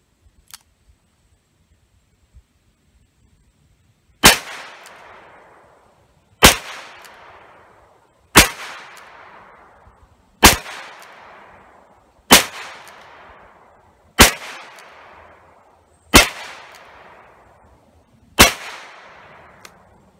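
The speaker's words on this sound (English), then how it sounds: "now we're gonna shoot the R8 with some 38s." A Smith & Wesson R8 revolver fires .38 rounds, producing eight loud, sharp gunshots spaced about two seconds apart, each with a brief decaying echo, with quiet pauses between shots.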